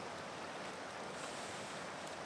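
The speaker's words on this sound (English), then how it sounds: "The wind has kicked up, it's gusting" Gusting wind at an outdoor solo campsite during a brook trout fishing trip, a steady broadband rush with surging buffets against the microphone and a wash like nearby water, with no voices.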